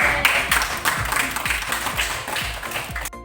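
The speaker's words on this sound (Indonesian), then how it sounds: "Tepuk tangan dulu buat semua." Students in a classroom giving everyone a round of applause, a few seconds of brisk, fairly loud clapping that stops abruptly at the end.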